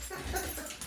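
A dog whimpers nearby in a short, thin whine lasting about a second, with faint background noise underneath.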